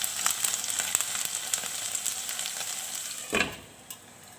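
Paneer, potato and cauliflower cooking in a pan over a medium flame give a steady, fairly quiet sizzle, with a short stirring scrape near the end.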